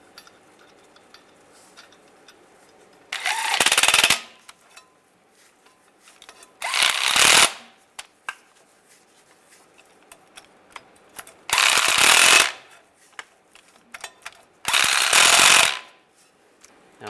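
A ratchet tightens cap bolts during a timing chain replacement on a 2007-2013 Chevy Silverado engine. Four separate bursts of rapid clicking, each about a second long, come close and loud with quiet gaps between them.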